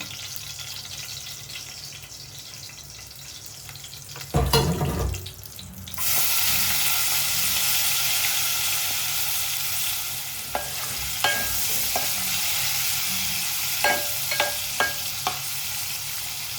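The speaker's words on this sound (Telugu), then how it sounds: "కొంచెం వేగనిద్దాం బ్రౌన్ కలర్ వచ్చే వరకు" Small dried fish frying in oil with turmeric, a sharp stir around four seconds and then a steady hiss of frying oil, broken by a few light clinks of a utensil toward the end.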